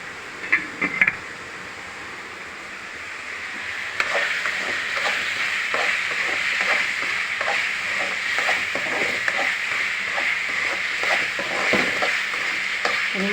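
Tomato masala sautéing in a pan for a sprouted green gram kurma: a continuous close sizzle with frequent light scraping stirs, a few sharp clinks near the start, and no voices.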